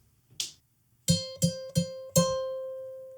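A single plucked guitar note struck four times in a steady rhythm, the last one left ringing, after a brief faint click; no talking.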